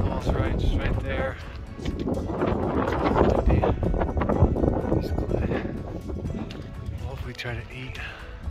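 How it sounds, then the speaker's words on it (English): Strong gusty wind buffeting the microphone in the boulder field on Longs Peak, a loud continuous roar rising and falling, with people talking underneath. "The wind will be dying down a little bit"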